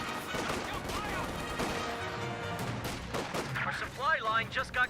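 Gunfire in the video game Company of Heroes 2, Volkswagen vehicles firing at max range alongside an MG34; rapid bursts of shots and impacts over a busy battle mix, with whining tones near the end.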